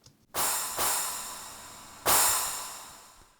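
Three quick, bright hits of a sped-up orchestral hand cymbal sample with a small, tight shimmer, the first two close together and the third after a pause, each ringing and fading.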